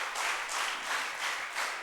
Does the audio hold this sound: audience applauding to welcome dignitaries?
yes